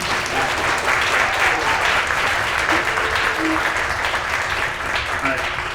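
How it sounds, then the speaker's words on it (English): An audience at an entrepreneur speaker series event applauds a panel, dense continuous clapping from many people holding steady throughout, with faint voices mixed in. "Let's give this panel a round of applause."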